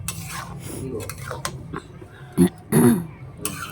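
Cabbage and shrimp being stirred in a cooking pot, with scraping utensil sounds and a couple of louder clanks against the pot over a low background, no talking.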